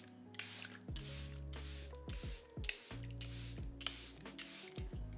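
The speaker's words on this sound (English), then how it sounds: "I love drenching my face with this." Charlotte Tilbury Airbrush Flawless Setting Spray spritzed onto a face, about five separate hissing pumps in quick succession, each a short bright burst close to the ear with quiet gaps between.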